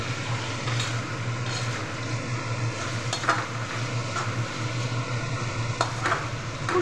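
A pan of vegetables sizzles steadily as they are stirred, with soft scraping and occasional louder spoon knocks against the pan, heard up close with no voices.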